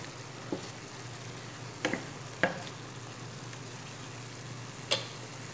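Bean sprouts sauté in a covered pan with a faint, steady low sizzle, broken by a few sharp clicks and taps, probably from the lid or utensils.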